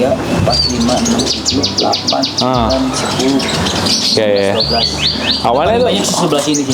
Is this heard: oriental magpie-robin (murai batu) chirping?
yes